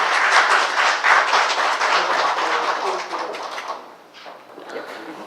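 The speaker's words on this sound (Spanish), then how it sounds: "Les damos un fuerte aplauso para su exposición" A seated audience at an engineering lecture evening gives a round of applause after a presentation, with dense clapping that holds strong for several seconds and then thins out and fades toward the end.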